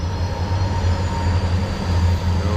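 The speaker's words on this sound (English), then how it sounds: "So that's the train," A train rolling past in Whistler, a steady low rumble of wheels and cars with a faint high whine, loud and continuous, no voices.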